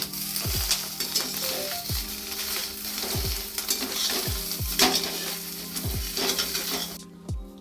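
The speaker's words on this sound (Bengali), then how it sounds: "তো এই দেখো আমার ডিম ভাজা হয়ে গেছে অমলেট" An egg omelette sizzles in a frying pan, a close, continuous crackle punctuated by regular dull knocks of a spatula every second or so, ending abruptly.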